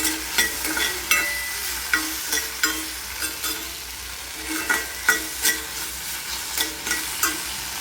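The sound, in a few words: okra frying and being stirred in a pan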